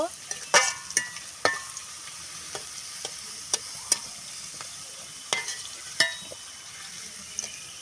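Carrots frying in oil in a home kitchen, a soft background sizzle broken by sharp clinks and scrapes of a spatula stirring in the pan.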